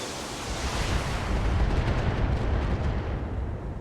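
Weapons fire in the BattleTech video game, heard as a dense rumbling barrage of booming impacts that swells and holds loud for several seconds without speech.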